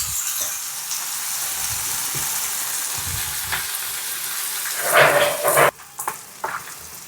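Spinach dal tempering frying in oil in a pot over a traditional wood-fired stove, a steady broadband sizzle throughout with a louder burst of spattering near the end, no talking.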